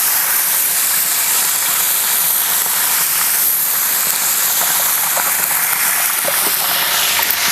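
Ingredients drop into hot oil over a traditional wood-fire clay stove while cooking village-style dry mutton for a large crowd, giving a loud, steady, hissing sizzle that runs unbroken throughout, with no voices.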